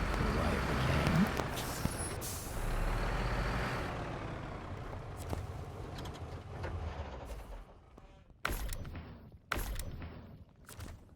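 A Kenworth truck maneuvers into a fuel station in SnowRunner, its engine rumbling steadily, then reversing beeps and sharp air-brake hisses toward the end.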